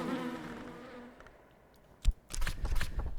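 A short blur of buzzing from bees in the video game Book of Hours, fading out, then followed by a few clicks and thumps of game activity.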